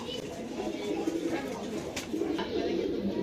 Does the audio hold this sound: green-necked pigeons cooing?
yes